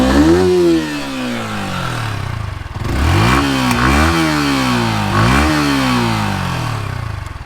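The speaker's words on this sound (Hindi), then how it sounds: "let's start her up and let's listen to the exhaust note" Yamaha R15 V4 motorcycle revving close by, its exhaust note climbing and falling in three or four throttle blips over a steady idle, loud and with no talking.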